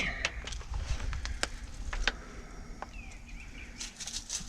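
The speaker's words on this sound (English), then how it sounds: "Oh, the birds sound beautiful." Birds sing and chirp outdoors in early spring in short, scattered high calls, fairly faint, over a low rumble of background noise.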